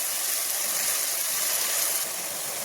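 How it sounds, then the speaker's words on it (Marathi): Water splashes steadily into a pan of chicken cooking for a spicy curry, a broad continuous pouring hiss with no voices over it. "त्याच्यामध्ये थोडंसं असं पाणी टाकायचं"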